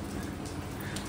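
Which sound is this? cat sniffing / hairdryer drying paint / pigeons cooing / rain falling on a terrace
rain falling on a terrace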